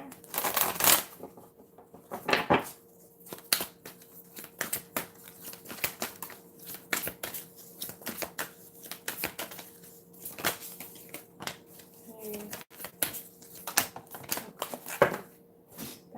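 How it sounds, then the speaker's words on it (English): Playing cards riffled and shuffled repeatedly, crisp papery bursts and flutters close by, with a steady faint hum underneath. "One more shuffle."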